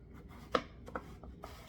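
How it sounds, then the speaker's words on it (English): A knife cuts squash into chunks on a board: a few soft, separate chops close by, the first the sharpest, in a quiet room. "So I'm just going to cut it like this. And then I'm just going to chunk these pieces."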